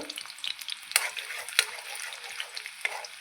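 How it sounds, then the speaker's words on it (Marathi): Garlic frying in an iron kadai with a steady soft sizzle, interrupted by a few scraping strokes of a spatula stirring the pan. "आता लसूण आपल्याला छान लाल रंगावरती परतून घ्यायचं आहे"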